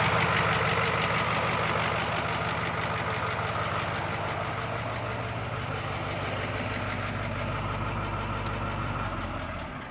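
Cat diesel engine idling under the open hood of a Squarebody truck, a steady, loud low rumble with a rough mechanical clatter that holds throughout and eases slightly at the end.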